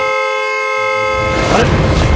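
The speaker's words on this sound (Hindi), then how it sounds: "नॉन स्टॉप हॉर्न बजा रहा है?" A loud, steady vehicle horn blares continuously, then gives way to a burst of broadband noise near the end.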